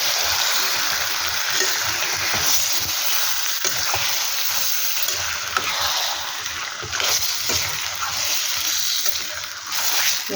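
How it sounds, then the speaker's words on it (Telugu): Chicken gravy with yogurt-marinated chicken is stirred and mixed in a pan, making a continuous close sizzle with wet scraping and shuffling from the spoon throughout. "మొత్తం మిక్స్ అయ్యేలాగా కలుపుతున్నాను."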